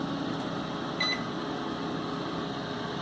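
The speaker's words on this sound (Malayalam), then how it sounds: "ഓവൻ അടച്ചിട്ട് വീണ്ടും സ്റ്റാർട്ട് കൊടുക്കുക." A microwave convection oven runs with a steady hum while grilling a peanut butter banana sandwich, one brief beep rising near the start.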